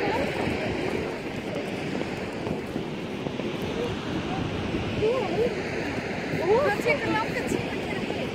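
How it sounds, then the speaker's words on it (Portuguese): A waterfall pours into a canyon in Iceland, a broad steady roar of falling water mixed with wind buffeting, and faint voices briefly audible near the end. "É um canyon e ali então uma cachoeira que cai também no canyon"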